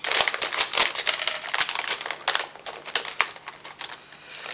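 A crafts package being unwrapped by hand, with loud, close crinkling and rustling of paper in quick bursts.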